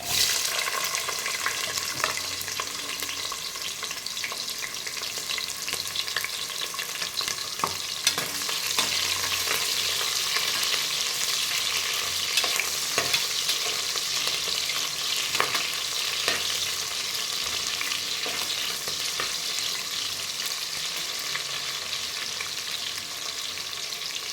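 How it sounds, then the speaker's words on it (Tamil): Onion and green chili fry with cumin in hot oil, making a loud, continuous close-up sizzle and crackle that runs throughout, with occasional spoon clicks against the pan. "இப்போ வெங்காயம் பச்சை மிளகாய் போட்டுக்கலாம்."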